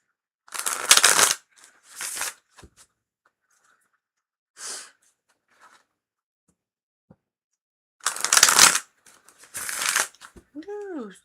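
Tarot and oracle cards are shuffled in several loud bursts of riffling and slapping, each a second or so long, separated by quiet gaps, with a few softer rustles between them and a brief voice near the end.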